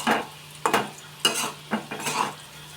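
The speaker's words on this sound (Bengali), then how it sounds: "আর আলু ভাজি করছি।" Potatoes are stirred in a frying pan with a metal utensil, giving four or five distinct scraping, clattering strokes at an irregular pace over a faint sizzle, with no talking.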